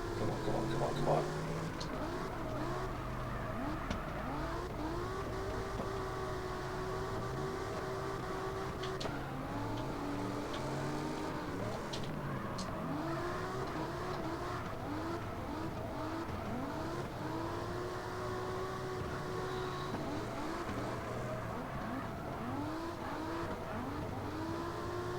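A car engine in the CarX Drift Racing Online 2 game revs continuously through a drift run, with its pitch repeatedly rising and falling as tires squeal, loud and unbroken throughout.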